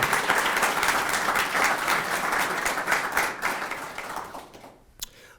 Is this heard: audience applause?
yes